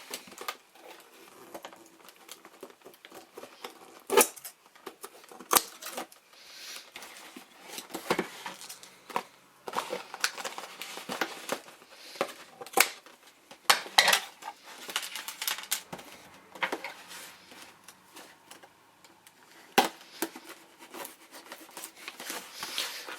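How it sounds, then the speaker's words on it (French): Collector edition One Piece: Unlimited Cruise SP video game box being opened, with close cardboard and plastic rustles, scrapes and light taps in irregular bursts throughout. "Alors on va ouvrir cette boîte."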